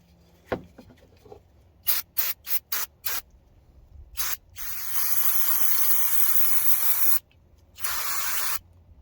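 Short bursts of water spray rinse down parts of an IH 484 tractor, first in several quick blasts, then in two longer steady hissing sprays up close with no talk.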